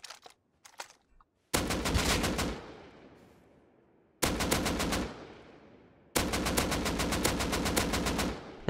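Bursts of AK assault rifle automatic fire in the video game Rust, three loud sustained sprays of rapid shots with short gaps between, preceded by a few faint clicks.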